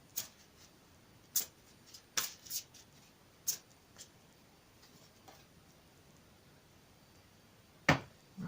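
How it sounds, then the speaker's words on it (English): A deck of tarot cards being shuffled by hand, heard as a scattered series of sharp, crisp riffles and taps with quiet gaps between them, close and fairly soft. "One more shuffle."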